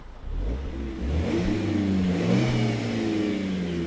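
A simulated Renault Clio Cup race car engine plays through speakers, revving up with a rising, whining mid-pitched tone over a few seconds.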